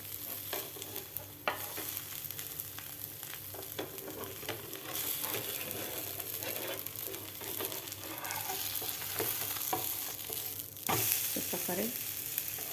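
A crisp semolina rava pola fries in a pan after being flipped, a continuous close sizzle with occasional stirring and scraping clicks, louder toward the end.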